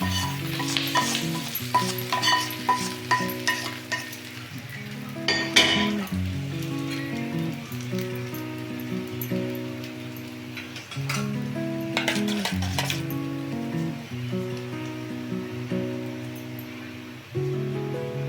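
Asafoetida and spices frying in oil for rava pulihora, a steady sizzle with metallic clinks and stirring scrapes of a spoon against the pan, close and fairly loud throughout.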